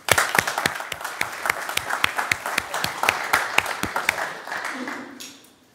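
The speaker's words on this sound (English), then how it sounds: "So give yourselves a round of applause." Applause from a small class audience at the end of a rapid prototyping term, individual claps clearly distinct and fairly close, continuing steadily before fading out near the end.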